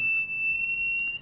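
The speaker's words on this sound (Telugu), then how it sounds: "నేను ఎప్పుడైతే ఫైర్ని సెన్సార్ దగ్గర పెడతాను మనకి బజర్ సౌండ్ అయితే వినబడుతుంది" Buzzer of a homemade flame-sensing fire alarm circuit sounding after a flame is brought near its sensor, a steady, piercing high tone with a harmonic overtone, close and loud, lasting about a second before cutting off.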